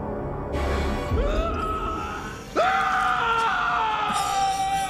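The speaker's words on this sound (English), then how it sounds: "He's screaming his ass off." A man screams in the 2017 horror film Jigsaw, letting out loud, strained cries that rise sharply in pitch twice amid tense background noise.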